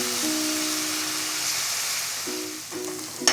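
Green chillies, ginger and onion sizzle steadily in hot oil, a continuous bright frying hiss with a few soft clinks of stirring near the end, and no voices.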